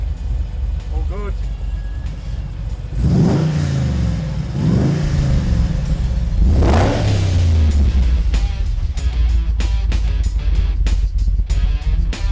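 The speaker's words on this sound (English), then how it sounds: "They just want it to sound like a proper Aussie muscle car." An Australian muscle car engine rated at 557 kilowatts, heard in a workshop setting, revs in several loud rising sweeps, then drops into a deep, steady rumble, with a voice talking over it.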